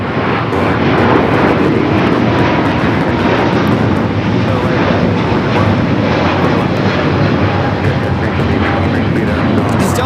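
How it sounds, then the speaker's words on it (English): A Delta Airlines Airbus A350-900 roars down the runway at LAX on its takeoff roll, a loud, steady broadband jet rumble filling the air, with people chatting nearby underneath it. "Delta Airlines Flight 39 taking off to Shanghai on the A350-900."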